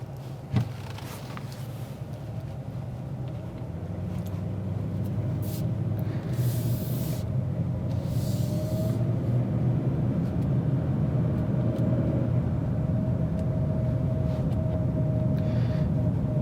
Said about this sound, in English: let's go ahead and drive it around and see what it looks like on the road